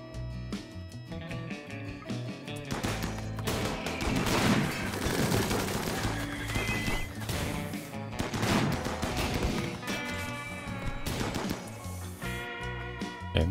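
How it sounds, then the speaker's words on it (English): Dense, sustained gunfire from RimWorld combat against centipedes, with overlapping rapid bursts and heavy booming shots layered over a steady game soundtrack, loud and continuous throughout. "Start shooting the shocked centipedes too"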